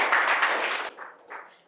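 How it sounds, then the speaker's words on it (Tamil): Audience at a Tamil stage talk applauds, a short burst of clapping that fades after under a second, followed by scattered lighter claps. "கைத்தட்டு"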